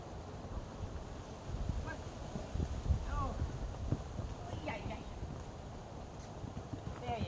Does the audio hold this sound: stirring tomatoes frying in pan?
no